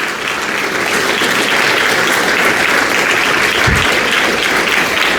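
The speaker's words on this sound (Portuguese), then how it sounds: "Você pode dar uma salva de palmas para Jesus?" A church congregation breaks into loud, continuous applause for Jesus, a thick wall of clapping that holds steady throughout with a brief low thump partway through.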